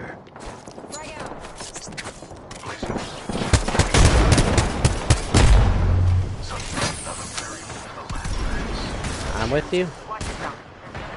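Frag grenade and gunfire in the Apex Legends video game: rapid bursts of automatic fire and blasts fill the middle of the clip, loud and dense, with a player talking briefly over the game action.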